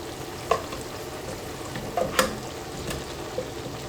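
Onions sweat gently in bubbling oil and butter, giving a low, even sizzle with a few light utensil taps and scrapes scattered through, quiet and close.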